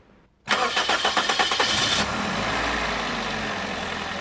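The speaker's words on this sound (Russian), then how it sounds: "Итак, заводим двигатель" A car engine cranks with rapid rhythmic starter bursts for about a second and a half, then catches and settles into a steady, loud idle, close by and alone.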